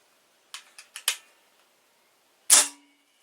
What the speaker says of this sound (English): Very easy gun to cock though.